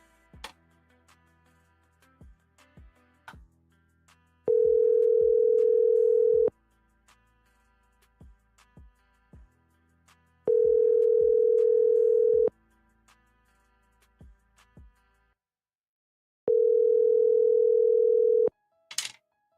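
A telephone line repeats three long steady tones separated by gaps, with sharp clicks and ticks scattered between them, heard clearly and alone while a call is placed.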